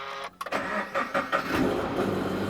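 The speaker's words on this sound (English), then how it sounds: "Please start, little car." A Toyota GT86 that has sat unused for a long time cranks briefly, catches and fires up, then settles into a steady, fairly loud idle close by.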